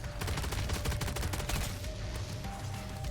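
Rapid gunfire from the AMR9, a Pack-a-Punched aftermarket weapon, in MW3 Zombies, a dense sustained burst of loud automatic shots ripping steadily for about three seconds with a faint electric tone beneath.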